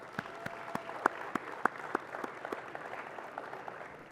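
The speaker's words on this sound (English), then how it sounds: "let's just take a minute to give these coaches and players a round of applause" A round of clapping from a gathered audience, steady and fairly sparse, with a few sharper claps standing out; no voices.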